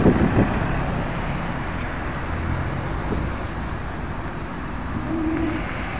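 Mazda MX-5 roadsters arriving on an owners club run near Downpatrick, a steady broad road and engine rumble passing at moderate distance, with faint birdsong above the traffic noise.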